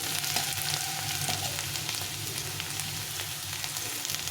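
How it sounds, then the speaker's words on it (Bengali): Potato and onion sizzle and fry steadily in a pan, a continuous close crackling hiss with no talking. "পেঁয়াজ আলুটাকে একটু ভেজে নেব লাল লাল করে ভেজে নেব"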